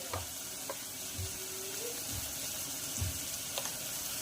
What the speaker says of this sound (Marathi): मस्तपैकी याला 2 ते 3 मिनिटं परतून घ्यायचं आहे।